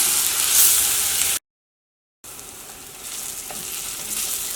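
Onions sautéing in hot oil in a pan, a close, steady sizzle with stirring that cuts out briefly, then resumes a little softer.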